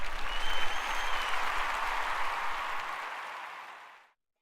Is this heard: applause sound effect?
yes